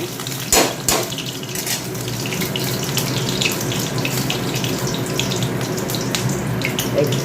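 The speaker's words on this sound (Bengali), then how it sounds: "সবজিগুলো ধুয়ে যাচ্ছে" Tap water runs steadily over vegetables being washed in a sink, a continuous close splashing with a couple of sharper knocks near the start and no talk.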